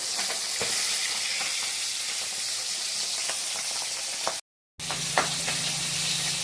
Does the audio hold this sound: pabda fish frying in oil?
yes